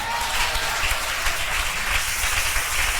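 A church congregation applauds the Lord with steady, dense clapping that fills the room at an even level for the whole stretch.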